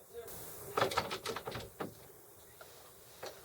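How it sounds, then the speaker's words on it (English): A door is pushed open, with a cluster of sharp knocks and clicks from the latch and handle, then a few lighter taps as it swings, in a fairly quiet room. "Now this time, don't pull the door, push."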